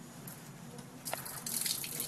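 Water pours in a steady stream into a graduated cylinder, starting as soft dripping and splashing and then growing into a brighter, louder trickling flow over the last second.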